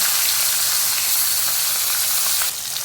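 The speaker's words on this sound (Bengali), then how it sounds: "কড়াইয়ে তেল দেওয়া হয়ে গেছে, তেলটাও গরম হয়ে গেছে, এখন হালকা করে মাছটা ভেজে নেব।" Hilsa or khoira fish fry in hot oil in a wok, giving a loud, dense, steady sizzle and hiss that fills the whole stretch without speech.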